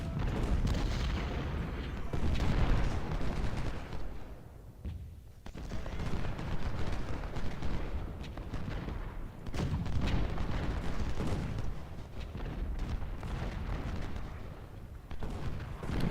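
Battle noise from the Civil War strategy game Ultimate General: Civil War: continuous rumbling artillery and massed gunfire, dense and booming throughout, with a brief lull before the barrage resumes.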